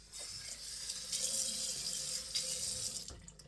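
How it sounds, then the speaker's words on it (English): A bathroom tap runs steadily into a sink as water is used to wet the face before a shave, a continuous close splashing hiss that cuts off near the end. "So let me wet my face."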